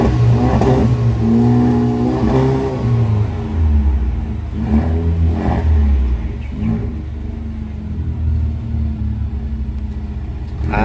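A VinFast car fitted with a modified exhaust revs repeatedly, giving loud, close, rumbling bursts of engine noise that rise and fall without any talking.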